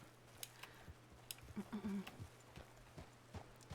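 Hooves clip-clop at a steady walking pace, faint and evenly spaced, over a low background hum.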